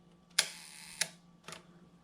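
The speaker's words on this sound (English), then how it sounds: "let's just take a look at what the sound sounds like on a slower shutter speed" A Rolleicord V twin-lens camera's leaf shutter fires at a slow speed: a soft click opening, a pause of about half a second, then a second click closing, followed by a faint mechanical tick. Quiet and close, with no talking.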